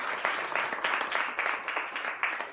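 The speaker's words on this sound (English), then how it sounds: "Let's give her a round of applause." A gathering at a therapy organization's event applauds Janet for finishing her master's degree, a fairly soft, steady patter of many hands clapping with gentle rhythmic swells, somewhat distant.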